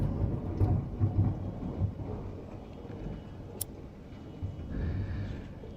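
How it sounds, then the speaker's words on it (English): A storm's thunder rumbles low and heavy over steady rain, with rolling swells of noise and a continuous wash of falling drops, no voices. "The storm is here."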